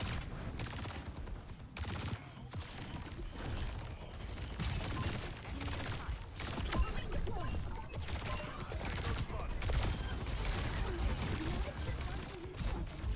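Juno's missiles fire in Overwatch 2 amid busy gameplay: rapid bursts of launches and impacts mixed with clattering mechanical effects. The sound is dense and continuous, and a player talks over it.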